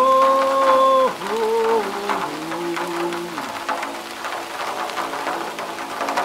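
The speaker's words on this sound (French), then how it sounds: "C'est la pluie qui joue mon tambour." Steady rain patters across the whole stretch, a dense, close hiss of drops with scattered sharper taps, while sustained humming tones ride over it at the start and fade into the downpour.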